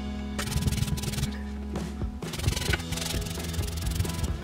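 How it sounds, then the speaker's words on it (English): Brass wire brush scrubbing rust off the steel shaft of an iron golf club, a steady rasping scrape in repeated strokes with a short pause midway, close and fairly loud with no talking. "I will try to brush the rust off the shaft with brass one"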